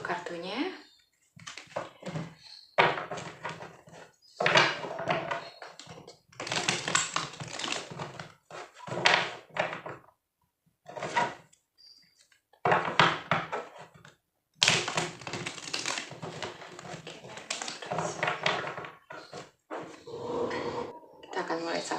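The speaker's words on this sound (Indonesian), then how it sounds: "Oke, kita shuffle dulu kartunya." Tarot cards are shuffled by hand in repeated bursts of quick papery clatter, broken by short pauses, with a voice speaking over and between the shuffles.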